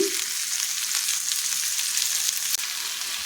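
Onions and tomatoes with curry leaves frying in a pan for stuffed ridge gourd give a bright, continuous sizzle with crackling spatters, close and steady, and no talking.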